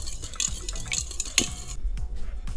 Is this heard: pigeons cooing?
no